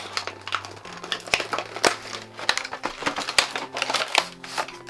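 Plastic packaging around lip gloss tubes is torn open and crinkled by hand, close and busy with sharp crackles, rustles and small clacks in an uneven rhythm, with no talking.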